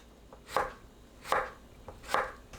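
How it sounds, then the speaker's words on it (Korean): Knife slicing a halved cucumber on the diagonal against a cutting board, three distinct crisp cuts at a slow, even pace, close and clear with no talk. "길게 반으로 가릅니다. 어슷 썰어주세요."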